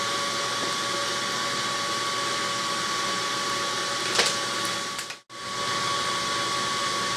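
A gas forge burner roars steadily while heating lawnmower blade steel for a weld, a loud constant rush with a brief crackle near the end before cutting out abruptly, then resuming; no talk.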